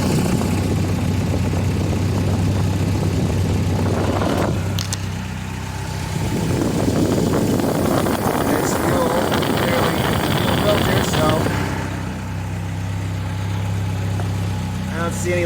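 Jeep CJ5 engine running steadily after being given a little choke, a continuous low idle rumble that rises in intensity midway, with a person talking over it.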